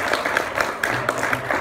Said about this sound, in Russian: Так и думал, что будут аплодировать на этом слайде.